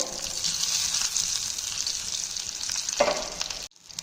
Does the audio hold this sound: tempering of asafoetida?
yes